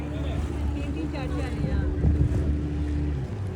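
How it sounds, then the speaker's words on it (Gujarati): Boats cruising on the sea off Goa during a dolphin-watching outing, heard as a steady low engine drone with wind rumbling across the microphone and water noise, while people chatter in the background. "બોટ બધા આટા મારે છે"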